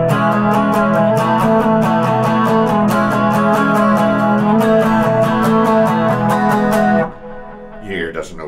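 Electric guitar plays a steady strummed run of chord embellishments, never settling back on the original chord, loud and continuous for about seven seconds before cutting off into a brief trailing tail.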